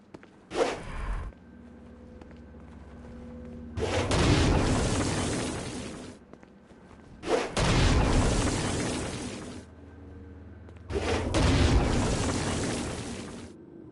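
Stone Blast spell explosions in Saints Row: Gat Out Of Hell, fired at flying demons: three loud, sustained booming roars, each about two seconds long with a sharp onset, separated by quieter gaps, plus a short burst at the start.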